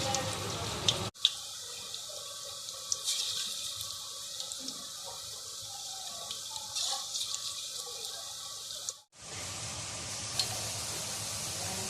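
Potato and onion pakoras fry in hot oil with a steady, loud, close hiss that cuts off briefly twice before resuming.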